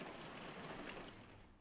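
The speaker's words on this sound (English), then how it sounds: "The rain is stopping." Soft, steady rain falls in an indie horror video game, a faint, even hiss with no other sounds standing out.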